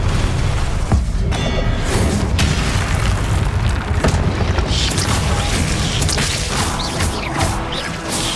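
Repeated Confringo blasting-spell explosions in Hogwarts Legacy, loud booming crashes and whooshes in dense, continuous combat noise over about eight seconds.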